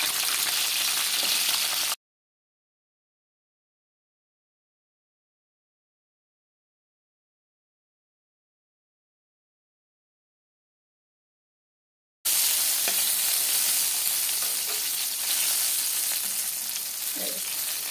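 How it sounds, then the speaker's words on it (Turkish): Peppers frying in hot oil in a pan, right after eggplants, give a steady close sizzle that stops for a long silent stretch and then resumes just as loud. "Şöyle onları da kızartacağız biraz."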